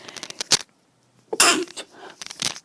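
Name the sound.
sneeze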